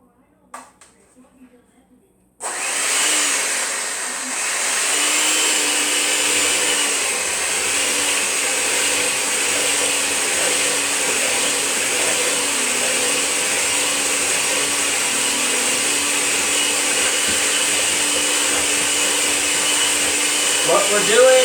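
An electric egg beater whirs steadily and loudly through cake batter in a home kitchen, starting abruptly after a brief quiet moment and running continuously to the end.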